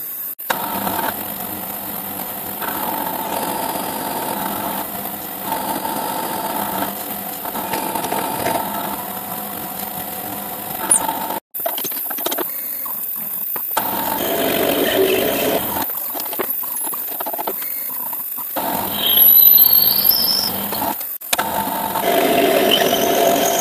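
Milling machine cuts sockets into injection mould plates, a steady mechanical whir and buzz with a persistent high tone, running continuously with brief drops and changes in pitch as the cutter engages and pauses.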